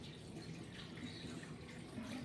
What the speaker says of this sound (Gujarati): આજના બ્લોગની શરૂઆત થાય છે પાણી ભરતા ભરતા